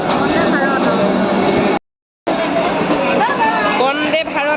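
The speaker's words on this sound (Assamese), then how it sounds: "এইখন হৈছে বন্দে ভাৰত লোকেল ট্ৰেইনখন খুৰ্দা ষ্টেচনৰ পৰা যাব এতিয়া পুৰীলৈ।" A Vande Bharat local train at Khurda station bound for Puri, heard as a steady rumbling rail noise with station babble and a brief cut partway through, under nearby talk.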